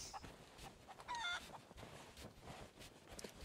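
Chickens cluck briefly in the pirate adventure game Sea of Thieves. The clucks are short and fairly clear, set against busy game ambience with no talk.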